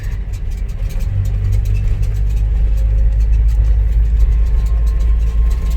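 A van drives uphill on a residential road, its engine a low steady rumble that swells slightly partway through, heard from inside the cabin with no talk.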